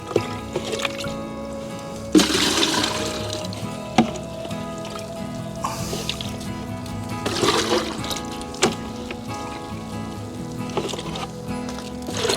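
Water splashes and trickles as it is poured to moisten wicking bed potting mix in an urban garden, giving soft intermittent gushes over a steady low background hum.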